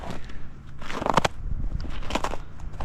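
Crunchy steps through snow at a riverside campsite in West Virginia, in temperatures in the teens, a steady series of crisp crackling crunches heard up close, with no talking over them.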